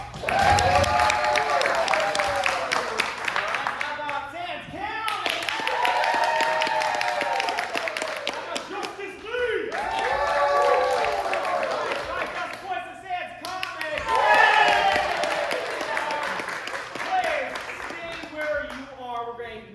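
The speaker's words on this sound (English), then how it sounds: "by round of applause, do you think cheap date wants your vote?" Audience at an improv comedy house team show in San Diego gives a sustained round of applause and cheering to vote for a team, swelling in several waves over about twenty seconds with voices mixed in.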